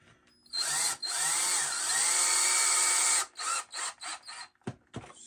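A power drill drives screws into a glued wooden piece, with one long steady whir followed by several short bursts as the screw is seated, close and loud.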